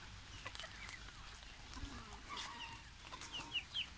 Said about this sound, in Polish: wypuściliśmy kury